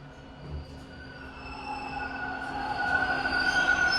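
A Toronto TTC Line 2 subway train rumbles and hums at close range at Chester station platform, its tonal whine rising and growing louder over several seconds with a steady mechanical drone underneath.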